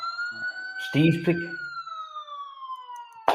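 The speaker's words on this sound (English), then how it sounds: "Oh boy, Jackson, hit the siren again." A siren wails steadily with a slowly falling pitch, interrupted briefly by a short burst of speech, then an abrupt loud noise at the end.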